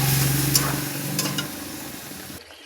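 Prawns with mustard and poppy seed paste sizzle and crackle softly in a pan, with a light stir and a fading hiss before the sound cuts off.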